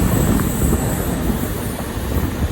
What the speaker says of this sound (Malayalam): ഈ വണ്ടി എങ്ങും നിന്നിട്ടില്ല, നല്ല ഓട്ടമാണ് ഇപ്പോഴും